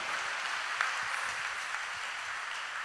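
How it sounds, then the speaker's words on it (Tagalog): Steady applause from a church congregation at Mass, a continuous wash of clapping at moderate distance, with no talking. "isa pang palakpak para sa ating Panginoon"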